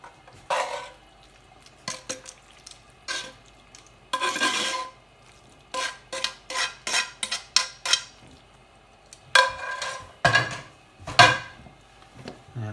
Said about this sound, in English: stir in our bolognese, coating our pasta